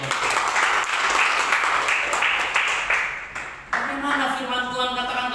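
A church congregation at GKSI Glory To Glories in Batam claps and cheers loudly for a sustained stretch, the applause settling briefly before a preacher's voice comes through near the end.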